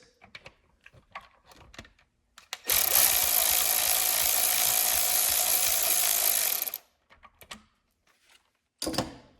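A T6 driver unscrews a part during a Getrag 420G gearbox teardown, giving one steady, loud, buzzing whirr that runs for about four seconds, with scattered taps and handling noises before and after.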